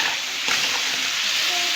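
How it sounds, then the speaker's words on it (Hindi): Chicken pieces fry in a pan for a restaurant-style chicken curry, a loud, close, steady sizzle and hiss with a brief stirring scrape. "क्योंकि मैं पहले चिकन फ्राई कर रही हूँ"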